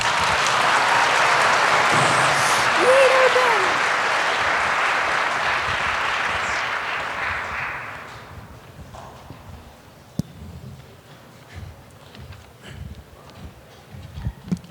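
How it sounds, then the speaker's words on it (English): A round of applause from an audience for a panel at a Martin Luther King Jr. celebration event, loud and sustained for about eight seconds before fading into quieter room noise with a few scattered sounds. "Can we get another round of applause?"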